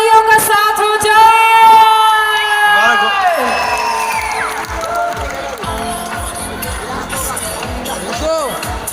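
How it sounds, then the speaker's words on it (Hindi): A crowd at a Krishna Janmashtami festival award ceremony cheers and whoops loudly after a drawn-out spoken or shouted call, the excited hubbub of voices continuing with scattered yells. "बसंत जी को जोरदार तालियों का साथ हो जाए"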